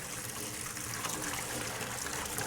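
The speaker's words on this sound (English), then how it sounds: "I'm just going to go ahead and start filling the sink with ice cold water." Ice cold water running into a kitchen sink, a steady close trickle and splash that continues unbroken and fairly quiet throughout.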